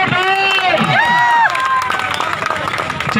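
An audience at a gathering in Gaya claps and cheers in loud, dense applause, with shouting voices and lively crowd noise mixed in throughout.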